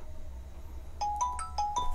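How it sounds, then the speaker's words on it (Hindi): A short electronic ringtone melody begins partway through, a few bright tones chirping in a quick pattern over a low background hum. "यहाँ पे किसी का कॉल आ रहा है"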